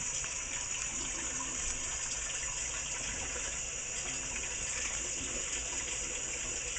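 Steady kitchen tap running into a sink, a continuous broadband rush of water held at an even level throughout with no talking.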